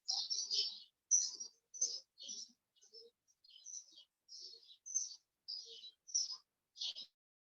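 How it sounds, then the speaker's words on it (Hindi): Small birds chirp in short, bright bursts roughly every half second, fairly close and clear against near silence. "ये जो चिड़िया का आवाज है वो सबको महसूस कीजिए।"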